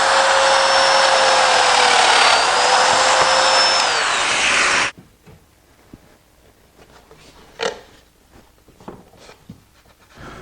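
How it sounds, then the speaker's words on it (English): A domino joiner whines loudly as it plunges a cut into wood, a steady high motor drone with a slight pitch dip before it shuts off abruptly, followed by quiet handling clicks. "I just put the domino on top of that, line up the lines, and plunge the cut"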